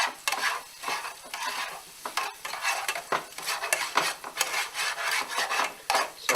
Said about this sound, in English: The garlic and the onions are in the pan. We have them frying up.